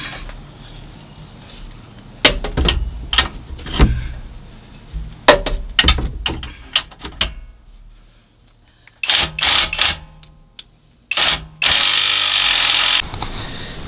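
Bolts being tightened on a Tough Toys track bar reinforcement bracket on a right-hand-drive Jeep, heard as a series of sharp ratcheting and impact-tool bursts, close and loud, with pauses between them and a longer steady whir near the end.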